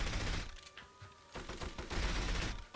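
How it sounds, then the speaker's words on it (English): Rapid bursts of gunfire from shooting enemies in the video game From Russia with Love, dense and continuous with brief lulls, loud and close, with no talking. "So I'm just gonna come out straight up and just shoot these guys."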